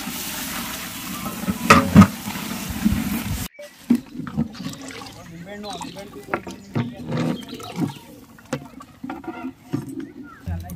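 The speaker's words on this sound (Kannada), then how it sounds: "ಅಕ್ಕಿ ಹಾಕೊಳಕ್ಕೆ ನೀರು ಹಾಕ್ತಾ ಇದೀವಿ" Water is poured into a pot of spiced vegetable pulao, giving a loud rushing, splashing pour for the first few seconds before it stops and a person talks over quieter kitchen sounds.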